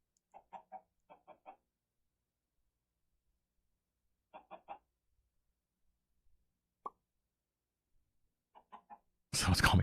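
Minecraft chickens in the All The Mods 9 modpack cluck in short clusters of two or three notes with quiet gaps between them, ending in a sudden loud burst of noise.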